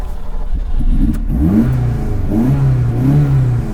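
A Ferrari Dino GT4 engine cranks and catches, then revs up and settles into a loud, rough, close idle that rises and falls with the throttle.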